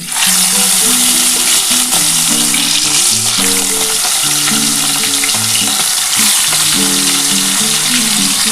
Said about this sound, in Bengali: বন্ধুরা দেখো আমার তেল গরম হয়ে গেছে, এবার মাছের মাথাগুলো আমি ভেজে নিচ্ছি।